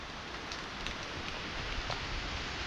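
Monsoon rain pours steadily over farm fields in Devgad, a dense even hiss of falling drops with a few louder splats, constant and close, no voices.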